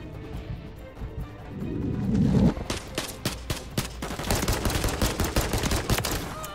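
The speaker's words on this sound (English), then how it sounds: "this really has to be one of the most satisfying pistols in the game" Rapid pistol fire from a John Wick pistol in a multiplayer video game, a quick string of sharp, close, evenly spaced shots in the second half after a muffled low rumble.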